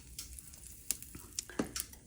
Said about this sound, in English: Add cumin seeds. You can see the spattering.